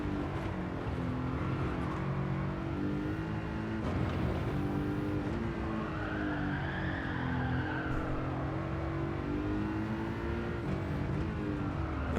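A racing game car drifts and brakes through a corner, its engine droning steadily while tires squeal in rising, sweeping tones, loud and continuous without speech.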